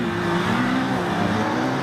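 A 2013 Ski-doo Expedition 1200 LE four-stroke snowmobile accelerates on hard-packed snow, its engine holding a loud, steady, close roar with a rising tone.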